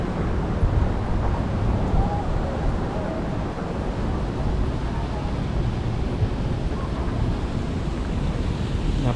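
Steady wind buffeting outdoors near the World Trade Center in New York on a hot day, a broad rushing roar that stays loud and constant throughout with no clear pauses.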